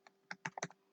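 A handful of quick keystrokes on a computer keyboard, typing a Python keyword, close and isolated, spaced irregularly over a second.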